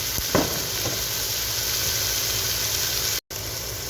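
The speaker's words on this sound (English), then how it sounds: "Now we add in some chopped cabbage." Chopped cabbage hits a hot pan after carrots and pork, giving a steady, close hiss of frying with a brief sharp stir near the start and a short break in the sound near the end.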